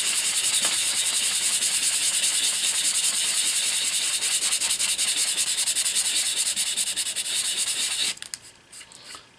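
Hand sanding of a resin model part without a sanding block, small circular strokes over concave, contoured putty-filled surfaces, giving a steady close rasping hiss that runs nearly continuously before stopping abruptly near the end.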